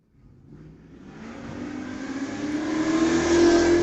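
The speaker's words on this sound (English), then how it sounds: "First pair up, Laura LeConte driving her 83 Camaro" A 1983 Chevrolet Camaro launches at a street-legal drag night at Mission Raceway Park, its engine swelling from near silence into a loud, steadily climbing roar as it pulls away.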